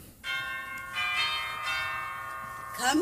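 A cottage doorbell rings with a sustained bell-like chime lasting a couple of seconds, clear and close, with a voice starting at the end.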